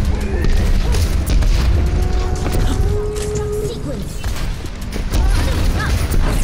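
A Zarya grenade bursts in Overwatch gameplay with heavy low booms and crashing impacts layered over dense game noise, the blasts arriving loud and close in a rapid flurry.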